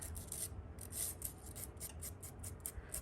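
Dry, rhythmic rasping of a sanding tool scraping across cardboard, repeated short strokes close by with no voices.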